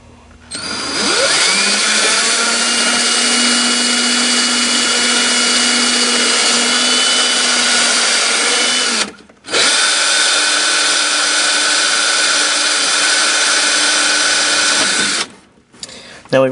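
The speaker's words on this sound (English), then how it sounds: "we've got a 7/64 drill bit. And we're going to set this up, get it lined up with our marks." A power drill runs steadily while a 7/64 drill bit bores into a bracket for the powered headlights of a 1963-67 C2 Corvette. The loud, even whine lasts about eight seconds, stops briefly, then resumes for another six seconds.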